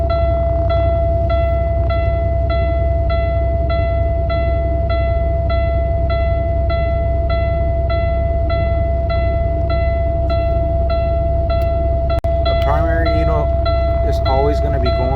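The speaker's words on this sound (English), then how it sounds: "Now we're gonna start the truck up." A semi truck is started at a container port and left running to build air pressure, producing a loud, steady engine drone with a sustained tonal whine. A voice joins briefly near the end.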